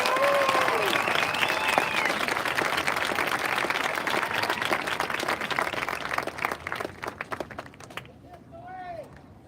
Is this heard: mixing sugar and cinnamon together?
no